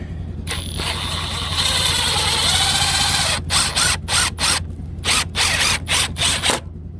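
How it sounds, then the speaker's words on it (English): A power drill bores an angled pilot hole near the edge of a board for a cheap sim racing rig, running in a long steady whir and then a series of short repeated bursts. "drill a little pilot hole"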